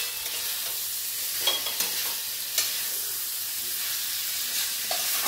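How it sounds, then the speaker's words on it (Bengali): Red spice paste fries in oil as raw jackfruit goes in, producing a constant soft sizzle with a few light stirring knocks scattered through it and no voices. "মশলাটা কষার পরে এঁচোড়টা দিয়ে দেব।"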